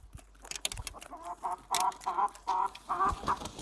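Chickens clucking close by in a series of short, repeated calls, with rustling and scratching sounds between them.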